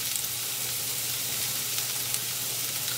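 Thinly sliced onion sizzles in a hot pan just used to sear halibut, a steady, even hiss that carries on unbroken and close with no voices.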